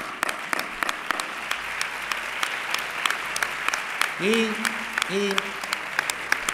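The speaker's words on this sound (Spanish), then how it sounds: "Fuerte el aplauso." Steady applause from a sports gala audience carries on for an award winner, dense clapping with distinct near claps, while a voice speaks briefly over it toward the end.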